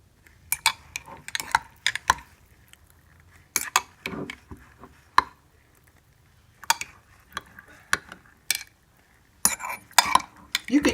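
Parboiled rice stirred with turmeric inside a glass canning jar, giving bursts of scraping, clinking utensil-on-glass strokes in irregular clusters with short pauses between, close and fairly loud.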